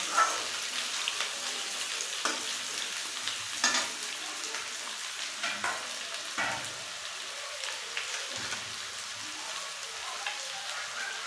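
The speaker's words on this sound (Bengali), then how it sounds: "আলুগুলো একটুখানি নেড়ে চেড়ে তারপরে ডাঁটা দিয়ে আবার একটু ভেজে নেব।" Potato pieces frying in a pan and turned over, a continuous bright crackling sizzle with repeated scraping stirs, close and fairly even throughout.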